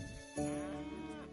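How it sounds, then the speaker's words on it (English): A big cow in the farming game Coral Island lets out a single clear, drawn-out moo that starts abruptly and holds steady, moderately loud with no speech over it. "And Uncle is this big old cow"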